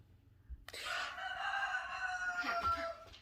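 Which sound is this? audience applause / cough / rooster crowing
rooster crowing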